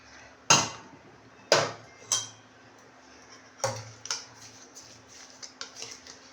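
Turmeric pickle is mixed with mustard oil in a bowl, a spoon knocking against the dish in sharp, irregular clinks and taps, a few louder strikes followed by softer quicker ones, close and otherwise quiet.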